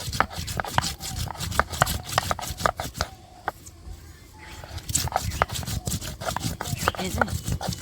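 Garam masala spices ground by hand on a stone slab in a home kitchen, a steady rhythmic scraping and thudding close by, pausing briefly midway before resuming.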